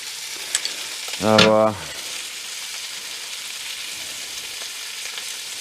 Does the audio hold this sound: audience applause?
no